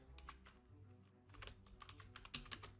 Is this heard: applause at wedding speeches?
no